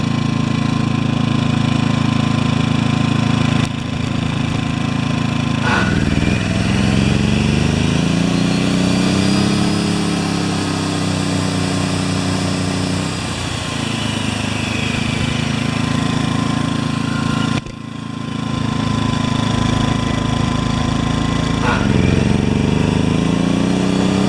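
A Predator 2000 portable generator engine running steadily, with its pitch dipping and rising as the throttle is moved several times, loud and close throughout.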